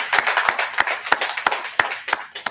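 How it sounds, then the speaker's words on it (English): A small crowd applauds at a talk on Indian boarding school history, giving a couple of seconds of close, irregular clapping with sharp individual hand claps standing out. "let's give them a round of applause"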